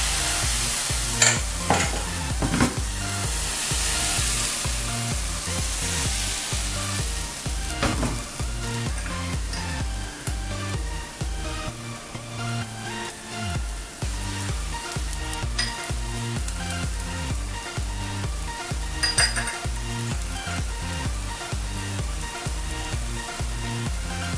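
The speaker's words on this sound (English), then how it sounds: "Again I'm putting some oil on a pan and going to put a ladle spoon of the mixture." Onion pancake batter, ladled onto an oiled pan, fries with a steady loud sizzle throughout, with occasional scraping and stirring knocks of a spatula against the pan.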